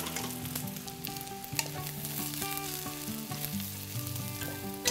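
Whole dried anchovies, garlic and dried chilies frying in two tablespoons of cooking oil, a faint steady sizzle under soft background music.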